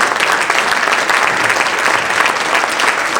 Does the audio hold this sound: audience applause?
yes